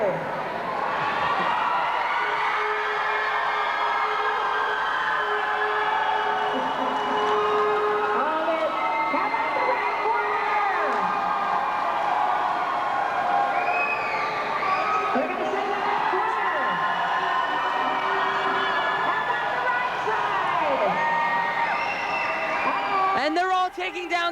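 Crowd at a high school chocolate pudding wrestling event, cheering, whooping and shouting continuously with scattered applause, a loud sustained roar of many voices with an announcer speaking over it.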